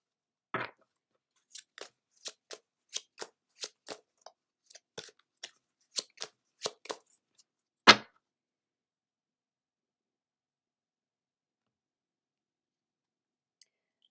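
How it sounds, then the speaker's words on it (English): Cards pulled from a Miracle Now oracle deck give a series of about fifteen sharp, close, isolated clicks and snaps over several seconds, ending in one louder snap, then near silence. "we're going to pull a card from the Miracle"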